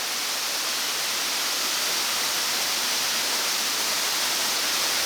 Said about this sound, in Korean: 이 폭포는 높이가 약 30m에 폭이 37m로 팔라우에서는 가장 크다.